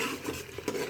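Masala being stirred as it fries in a pan for dal mash, soft scraping of a utensil against the pot in short strokes over a faint sizzle.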